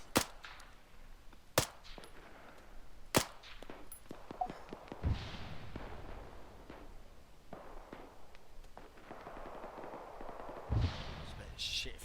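Gunfire in ARMA 3, sharp isolated shots cracking out every second or so at the start, then more distant pops and thuds with a few heavier reports, with some speech mixed in.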